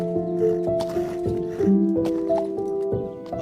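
A cartoon horse in an animated episode about Thorfinn clops its hooves and whinnies with a few short, near hoof knocks over a sustained, shifting tonal backdrop.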